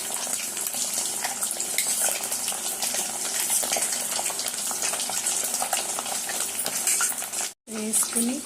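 Boiled prawns fry in peanut oil, a dense, loud sizzle with stirring scrapes and utensil clinks throughout, broken by a brief cut near the end.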